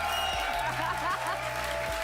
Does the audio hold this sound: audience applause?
yes